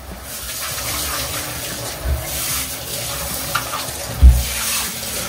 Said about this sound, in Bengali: তো এখন তাড়াতাড়ি করে সবজিগুলো ধুয়ে নিই।